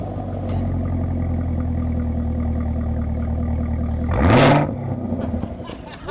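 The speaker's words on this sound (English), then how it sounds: "Step on it for me one time, Mike." Chevrolet car at a dealership with its engine idling in a low steady rumble, then a single sharp rev that swells loudly and falls back, heard alone without talk.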